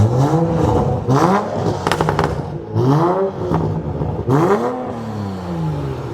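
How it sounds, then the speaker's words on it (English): A Toyota Supra engine revs up hard several times in quick bursts, each rising whine falling back, loud and close with no voices. "Give me a couple revs"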